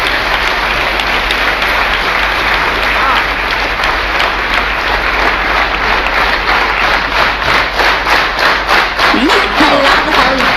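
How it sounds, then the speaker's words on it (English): Audience applause at a concert in Copenhagen, a steady, dense wash of many hands clapping that holds loud and even for the whole stretch with no voices on top. "Waits for the clapping to end up"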